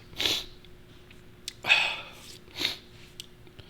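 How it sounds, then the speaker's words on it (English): A few short, faint sniffs or stifled sneezes come in quick bursts, quiet and close in an otherwise still room. "Sorry about the sneezing"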